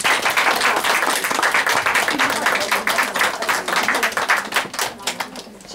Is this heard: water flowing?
no